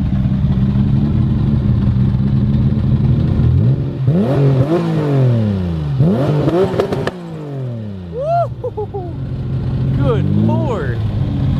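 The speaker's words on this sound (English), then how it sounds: "do you mind if you rev it up a little bit for me real quick here" Toyota MR2 engine at a car meet, idling then revved repeatedly in sharp rising and falling bursts, close and loud, with a few spoken words from nearby people.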